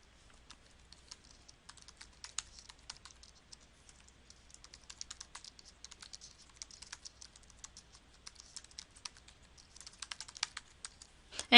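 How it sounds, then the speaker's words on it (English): Steady typing on a computer keyboard, soft rapid key clicks running in uneven bursts throughout, close but quiet, with no voices. "I have to click here to actually type in my first question."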